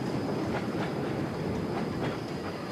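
A narrow gauge steam train in the Lake District rolls along with rhythmic clickety-clack of wheels on rails, a steady rumbling ride heard from on board.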